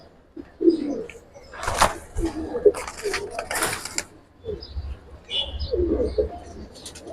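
Giribaz and coloured pigeons coo softly in repeated low phrases, with occasional chirps and flapping, while someone talks intermittently nearby.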